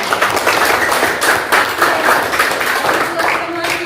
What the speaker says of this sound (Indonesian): tepuk tangan dulu buat Stephen